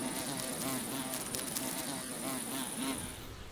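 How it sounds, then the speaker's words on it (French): Wild wool carder bees buzz close by with a steady, loud, wavering hum that rises and falls as they fly around a patch of flowers, with no voices. "Ces abeilles ont la particularité de défendre vigoureusement leur territoire floral."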